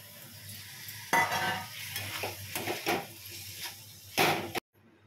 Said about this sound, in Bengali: এবার যে সমস্ত বেল পেপার, গাজর কেটে রেখেছিলাম ওটা আমি দিয়ে দিচ্ছি।